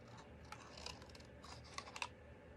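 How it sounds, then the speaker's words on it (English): Scissors fussy-cutting around the leaves of a stamped design on cardstock for a handmade card: quiet, irregular snips and small paper crackles, close up and faint, with no talking. "I'm just going to trim this around with my scissors, do a little fussy cutting just on these leaves."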